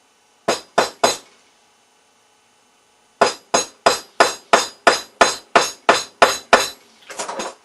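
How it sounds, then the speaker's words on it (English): Sharp metallic hammer strikes ring out, two quick hits, a pause, then a steady run of about ten evenly spaced blows, close and loud. "this is done with a small steel block and hammer"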